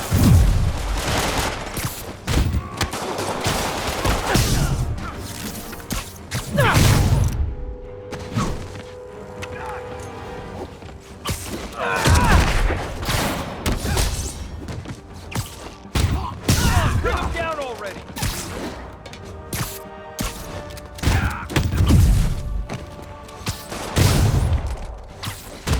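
Gunfire and heavy impact booms in a Spider-Man video game battle against Shocker, loud bursts recurring every few seconds amid thuds and clatter, with character voices speaking over the action.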